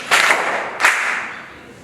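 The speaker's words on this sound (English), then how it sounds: "Yes, clap for him." Pupils in a primary school maths class clap in unison for a classmate: two loud, sharp group claps about three quarters of a second apart, each trailing off briefly.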